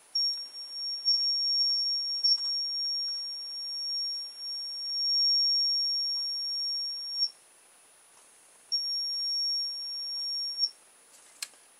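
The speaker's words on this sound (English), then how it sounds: "That's a rather complicated way of making use of a reversing beeper" A reversing beeper rigged as a light-sensitive toy mouse gives steady high electronic beep tones, running continuously while light falls on its sensor, pausing briefly, then sounding again; clear and close with no talking.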